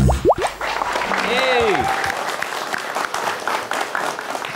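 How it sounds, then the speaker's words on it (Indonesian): Audience clapping at a school pantun exchange event, a busy wash of applause filling the clip after a brief moment of voices at the start. "Tepuk tangan yang seru."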